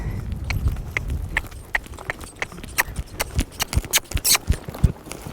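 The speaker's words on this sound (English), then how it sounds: "I will let his trot get faster and faster." Horse trotting as its gait quickens, with crisp close hoof clip-clops landing in a steady rhythm that grows denser and faster through the stretch, over low rumbling background.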